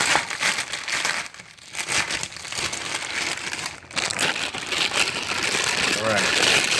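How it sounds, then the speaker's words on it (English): A plastic bag holding silicone stretch covers crinkles and rustles continuously as it is handled up close, while a person talks over the handling. "Got another plastic bag."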